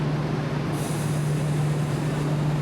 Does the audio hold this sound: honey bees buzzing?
no